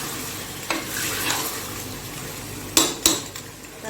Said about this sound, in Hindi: अब मैं इसमें डालूंगी ये टमाटर, 4 बड़े साइज के, और इसकी भी अच्छी तरह इसमें बुनाई कर दूंगी